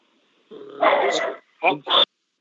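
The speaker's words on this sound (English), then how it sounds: "You need to turn that dog down, Bob." A dog barks and whines in the background of a phone call-in to a live radio show, one longer drawn-out vocal burst followed by two short sharp barks, fairly close and alone.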